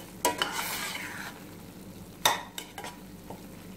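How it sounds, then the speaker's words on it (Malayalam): Chicken pizza filling with oregano stirred in a pan, a few loud scraping strokes over a soft continuous sizzle, with a quiet pause between bursts. "oregano കൂടി ചേർത്ത് ഒന്ന് മിക്സ് ചെയ്യാം"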